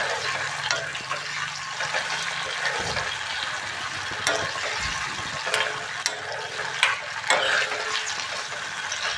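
Spoon stirring broiler chicken gizzard curry in a pan, with soft scraping and a light sizzle running steadily, close and moderately quiet, with a few brief clinks.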